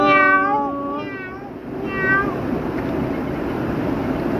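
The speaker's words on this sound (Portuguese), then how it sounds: "Eu acho que eu vi um gatinho." A kitten meows repeatedly near a river bank, several rising cries in quick succession early on, then one more, followed by steady wind and outdoor rumble.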